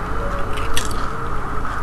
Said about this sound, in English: if you're wondering what the crunching are, we're eating crisps